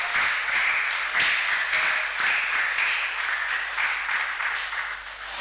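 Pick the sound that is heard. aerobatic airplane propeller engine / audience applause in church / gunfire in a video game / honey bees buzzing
audience applause in church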